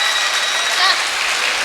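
An audience at a Tamil stage talk show in Kovilpatti bursts into loud, steady applause, a continuous wash of many hands clapping that fills the whole moment.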